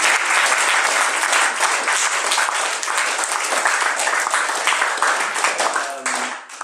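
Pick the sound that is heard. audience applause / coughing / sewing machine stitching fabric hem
audience applause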